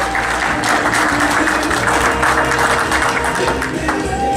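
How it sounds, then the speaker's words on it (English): A crowd at a community gathering gives a loud, sustained round of applause for Massimo's cooking: a dense, continuous wash of clapping with no pauses, close and filling the room. "Let's have a hand of applause for Massimo's."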